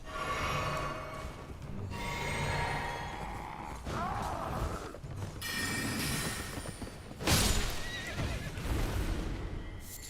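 Horse in Elden Ring neighing and whinnying several times amid hoof clip-clops and game ambience, with a louder burst of sound partway through.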